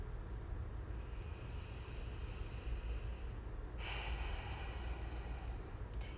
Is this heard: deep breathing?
yes